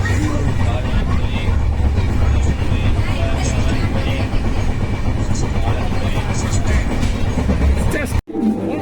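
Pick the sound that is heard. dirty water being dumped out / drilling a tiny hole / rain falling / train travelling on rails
train travelling on rails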